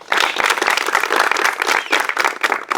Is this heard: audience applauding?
yes